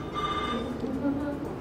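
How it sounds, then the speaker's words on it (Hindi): A mobile phone rings during an interview, a faint electronic ringtone tone sounding at low level for about a second under room noise. "फोन साइलेंट नहीं करके आते लोग यार।"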